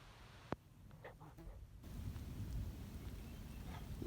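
Thunderstorm at a wilderness lake in Temagami, Canada, with a sharp crack of nearby thunder followed by a steady, low rumbling wash of light rain and wind building louder over a few seconds.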